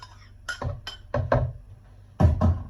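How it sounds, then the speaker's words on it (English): Watermelon is scraped into a blender in a series of sharp clinks and knocks of a utensil against the jar, in irregular pairs and clusters, close up and with no talking. "I'm gonna scrape the rest of the watermelon inside of this blender right here"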